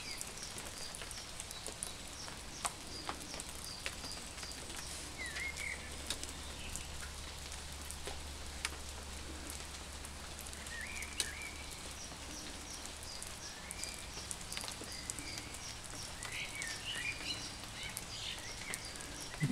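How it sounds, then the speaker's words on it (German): Steady light rain falls outdoors, a faint soft patter with scattered drops and occasional bird calls in the background, no voices, with a low hum in the middle stretch. "Es regnet."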